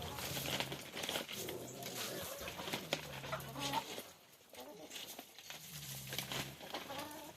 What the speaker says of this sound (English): Happy chickens here.